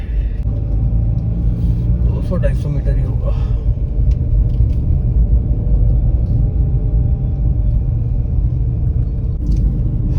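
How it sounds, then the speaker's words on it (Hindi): Cars idling and rumbling in a mountain traffic jam at Kainchi Dham in Uttarakhand, a steady low engine drone running throughout while someone talks over it. "कैंची धाम का जाम, कोई गाड़ी लगा रहा है तो उसके चक्कर में रुकना पड़ता है।"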